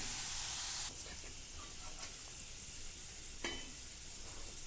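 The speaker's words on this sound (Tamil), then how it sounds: "இப்போ நல்லா ஃப்ரை ஆயிடுச்சுங்க." Tapioca chips frying in hot oil, a loud dense sizzle close up that continues steadily, with occasional stirring clinks as the chips are turned.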